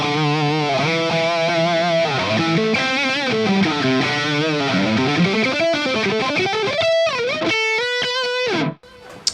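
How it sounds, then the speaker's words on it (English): Electric guitar played through a Mesa Boogie JP-2C amplifier on the lead channel in shred mode, loud distorted fast runs and sustained bent notes ending on a held chord that cuts off abruptly. "you can of course assign the shred mode to this channel"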